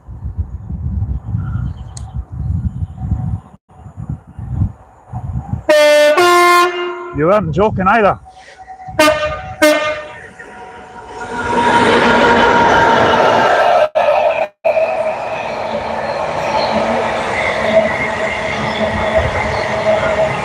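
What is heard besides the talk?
Class 66 train passing and sounding its loud horn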